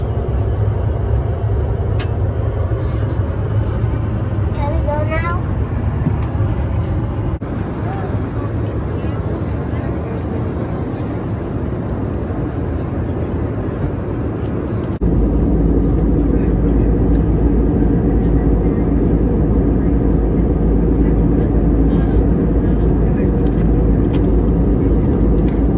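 Steady, loud roar of an airliner cabin during a Frontier Airlines flight descending toward Las Vegas; a constant engine and air rumble fills the whole stretch, with faint voices now and then.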